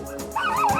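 Dogs left behind at a house after the Christchurch earthquake yip and whimper in a short, high, wavering burst, close and moderately loud, with no talking.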